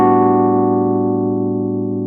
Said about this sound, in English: Then we have that final chord, which is the A dominant 13 sus 4.